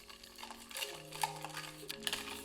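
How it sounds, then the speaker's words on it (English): Ice stirred in a mixing glass for an Old Fashioned cocktail, soft clinks and scraping taps recurring over a musical backdrop. "You want to stir for anywhere from 10 to 15 seconds."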